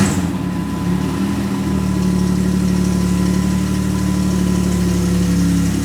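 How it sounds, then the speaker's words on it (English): A 2008–2016 Chrysler Town & Country minivan engine idles steadily right after starting, a loud, close, even hum with a slight rise in the first seconds. "it's time to start the engine"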